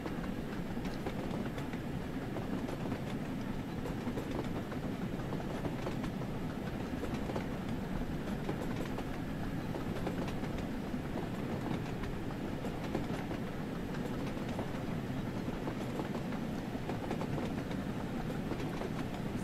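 Train running on rails, an 8F carriage relief train to Crewe, with a steady rolling rumble and rhythmic clickety-clack of wheels, continuous and moderately quiet with no talk.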